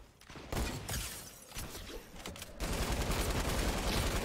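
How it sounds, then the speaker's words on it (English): Machine guns rattle in Fortnite creative mode with dense rapid bursts: an uneven spray at first, then a steady, loud continuous stream of fire. "Yes, like machine guns."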